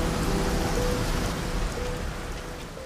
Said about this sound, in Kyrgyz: Ушул жамгыр,